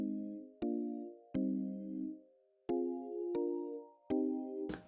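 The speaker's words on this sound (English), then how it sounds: "the sound that I'm adding on top is just a really basic patch in Operator" A bright synth patch from Ableton's Operator plays short plucked notes, each opening with a sharp click, in a slow uneven sequence, clear and alone.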